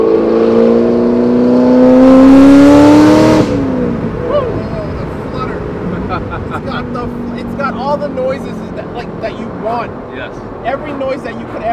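Supercharged Corvette Grand Sport with an aggressive cam revving hard, a loud rising harmonic exhaust note climbing to a peak, then dropping away, with excited voices talking over the lower rumble afterward.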